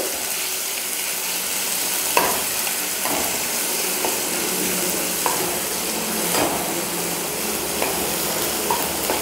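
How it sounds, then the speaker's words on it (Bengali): Grated onion and garlic with chopped green chili sizzle steadily in a pan, a dense continuous frying hiss broken by occasional scraping clicks of stirring, with no one talking. "পেঁয়াজ রসুনটা ভালোভাবে ভাজা ভাজা হওয়া পর্যন্ত একটু অপেক্ষা করব।"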